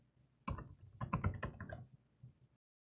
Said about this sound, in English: And I'll type the right password this time.